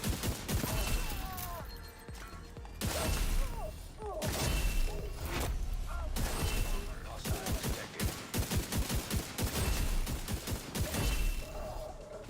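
Heavy gunshots from the golden bullet build in The Division 2 video game, loud repeated cracks and bursts with mechanical clatter, some in quick clusters, across a busy combat mix.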